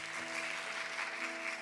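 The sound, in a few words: applause in church service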